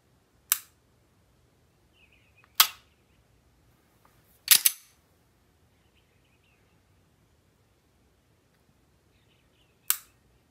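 Four sharp, isolated clicks come from a SIG P365 pistol being dry-fired and its trigger reset. They are crisp and close against near silence, with one doubled click in the middle.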